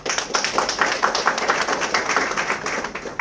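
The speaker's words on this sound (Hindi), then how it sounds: "एक बार अपने लिए ताली बजा लीजिए।" A Hindi-speaking audience claps in quick, uneven bursts, the individual slaps fairly close and distinct rather than a smooth roar.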